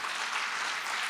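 A church congregation applauding during a Spanish-language sermon: a faint, continuous patter of many hands clapping at a distance, steady throughout.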